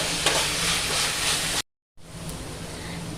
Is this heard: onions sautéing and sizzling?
yes